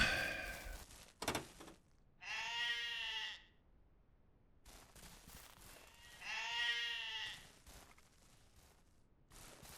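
Sheep bleating in the Ranch Simulator farming game, two drawn-out bleats a few seconds apart, clear and fairly close, over quiet background clatter with a short sharp knock early on.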